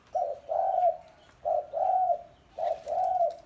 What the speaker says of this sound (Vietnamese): Bồ cu.